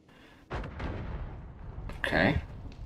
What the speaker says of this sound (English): I'm gonna have to use a bomb over here, I bet.